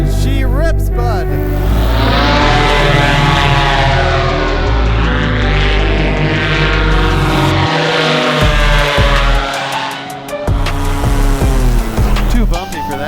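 A custom high-powered paramotor engine roaring at full throttle in flight, a loud steady propeller drone with shifting harmonic pitch and slight dips, close to the microphone for the whole stretch.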